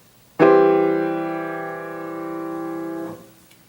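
A Bach piano chord is struck once with its lowest note, E, voiced louder than the rest, then held alone for nearly three seconds before being released cleanly.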